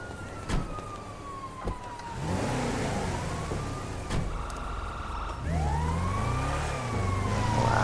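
An ambulance siren wails and sweeps past on a road, its rising and falling tone clear over traffic and engine noise, with a few sharp knocks near the start.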